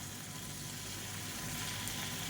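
Paneer cubes fry in hot oil in a kadai over a medium flame, turning golden: a steady, close, even sizzle hisses throughout without pause.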